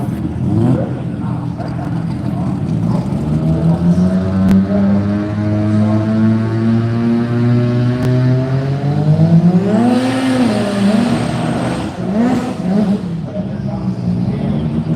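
A Mazda 13B rotary-engined race car revs loudly and steadily, its pitch climbing and dropping through gear changes, with a buzzy, high-revving rotary character close by, during qualifying.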